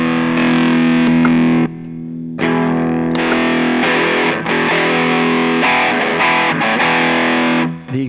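Electric guitar chord played through a Boss SD-1 Super Overdrive or Ibanez TS9 Tube Screamer pedal, loud and sustained with a distorted tone, struck twice with a brief gap between, with no voice over it.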